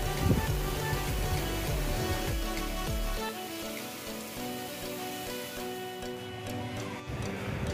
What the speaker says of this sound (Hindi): बाहर शदीद बारिश शुरू हो गई है।